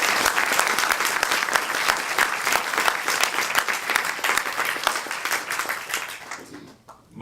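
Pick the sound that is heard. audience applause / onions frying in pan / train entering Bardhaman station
audience applause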